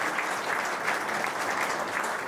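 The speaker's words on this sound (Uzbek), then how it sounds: "Sahnada ko'rinishingiz bilan rosa olqishlar chalishmoqchi." An audience at an olympiad awards event applauds a woman stepping onto the stage, with dense, steady clapping from many hands throughout and no talk over it.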